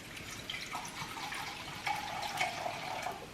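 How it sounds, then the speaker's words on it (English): Boiling water poured from a cup into jars holding apple cider vinegar, a steady close splashing trickle with small drips and clinks, no talking. "1 full cup of boiling water. And we're gonna fill these bad boys up."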